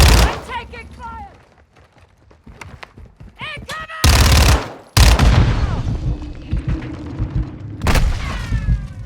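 Gunfire in Call of Duty: Vanguard comes as loud, dense bursts of shots mixed with voices, falling quiet for a moment before two heavy volleys break out again near the end.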